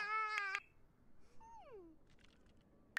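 A cat meows in The Sims 4 life-simulation game, with two bright, clear game meows at the start, a falling meow in the middle, and a short one at the very end, all fairly faint.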